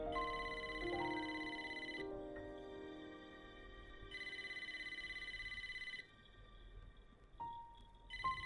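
A telephone rings in the game Wuthering Waves, repeated bursts of bright electronic trilling separated by pauses over a soft musical backdrop, fairly quiet and alone without talk.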